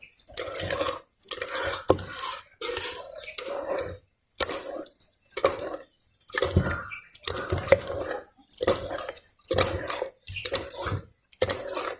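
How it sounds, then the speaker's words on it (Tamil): Rava dosa batter being mixed by hand in a bowl, with repeated wet squelching and sloshing strokes in bursts separated by short pauses, close and fairly loud. "கையால் தான் கரைச்சிருக்க போடுறேன்."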